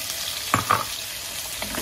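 Potatoes go into a pot of softened, browning onions frying in olive oil; a strong continuous sizzle with two quick thumps and scrapes as the pieces land and are stirred.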